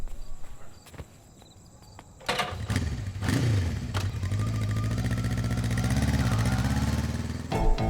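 An auto rickshaw's engine starts up and runs steadily at close range, a low, continuous putter that fills most of the moment after a few brief knocks, with no talking over it.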